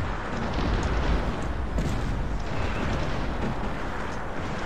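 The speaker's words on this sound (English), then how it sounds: "Mortar, did my mortars hit?" Mortar shells explode in a war video game: a steady, rumbling roar of distant blasts and booms that stays fairly quiet and dense throughout, with no clear speech.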